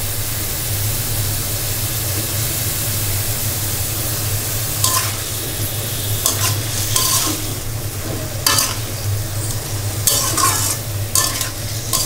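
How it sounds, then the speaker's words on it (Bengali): Loud, steady sizzle of spices frying in a pan, with a spatula stirring and scraping at intervals over the continuous hiss. "মশলা কষে উঠছে"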